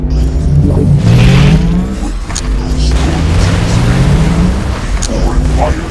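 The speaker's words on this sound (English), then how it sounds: "Prepare the demolisher cannon for another attack." Booming cannon fire and heavy mechanical rumble from the demolisher cannon in the video game X-Morph Defense, set in Germany, with sweeping low tones and blasts under a busy game soundtrack.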